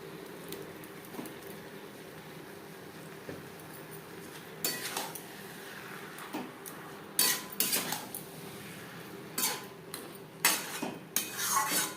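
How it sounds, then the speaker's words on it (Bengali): A spoon or spatula stirs cabbage with spices in a metal pan for cabbage curry. Faint steady background gives way to sporadic, irregular clinks and scrapes in the second half, growing louder toward the end. "মশলার সাথে বাঁধাকপি বেশ ভালো করে মিক্সড করে দেবো"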